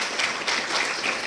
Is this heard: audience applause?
yes